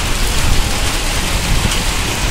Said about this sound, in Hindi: गाइस देख सकते हैं बहुत भारी बारिश पड़ रही है मूसलाधार